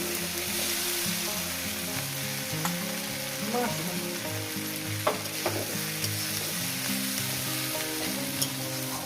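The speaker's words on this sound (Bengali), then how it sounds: "মাছটাকে দিয়ে আরও আমি ওই তিন মিনিট কি চার মিনিট এটাকে ভেজে নেব" Small river fish frying with Malabar spinach in a pan, a steady dense sizzle with occasional faint stirring clicks, continuous and close with no talking.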